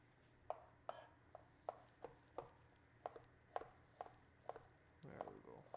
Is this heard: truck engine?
no